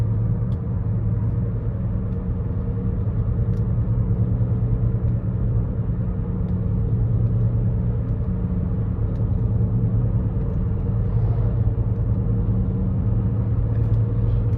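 A 2017 Toyota Corolla SE with about 100,000 miles cruises steadily down a back road in eco mode, giving a constant low engine and road rumble from inside the cabin with no change in level throughout.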